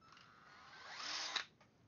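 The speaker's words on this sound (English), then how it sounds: "So that's the drill speeding up and then getting to full speed and then me stopping the drill." A power drill in a Stryker SR955 setup winds up, its whine climbing steadily in pitch to full speed, then cuts off abruptly with a brief clunk, close and alone.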